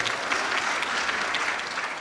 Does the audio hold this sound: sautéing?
no